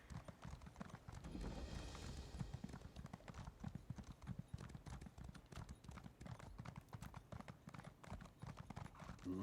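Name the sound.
horse hooves clip-clopping in the Elder Scrolls Online video game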